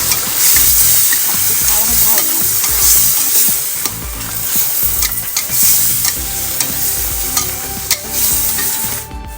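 Chicken stir-frying with chili paste, herb leaves and fresh chilies in a hot pan: steady loud sizzling with scraping spatula strokes throughout, no voices.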